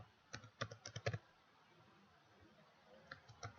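Keys tapped on a computer keyboard while entering a code, a quick burst of soft clicks followed by a pause and a few more taps, close and fairly quiet.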